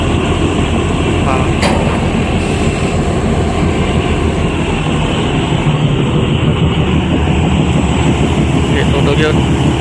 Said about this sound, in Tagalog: kusog yung makinay